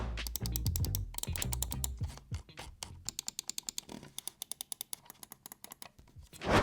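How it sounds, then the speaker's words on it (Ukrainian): Rapid series of crisp clicks from an Ajazz AJ139 V2 MC computer mouse, fast bursts of repeated presses followed by slower, evenly spaced single clicks, close and loud with no talk. "Переходимо до кліку і послухаємо, як звучить дана модель."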